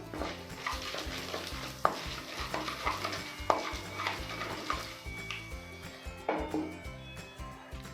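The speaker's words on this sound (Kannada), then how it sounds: "ಇದು ಸ್ವಲ್ಪ ಕಲರ್ ಚೇಂಜ್ ಆಗೋವರೆಗೂ ಫ್ರೈ ಮಾಡ್ಕೋಬೇಕು." A spoon stirs and scrapes through beans frying with mustard seeds and cumin in a pan, giving a soft, steady sizzle broken by repeated close metallic clinks and scrapes, no talk.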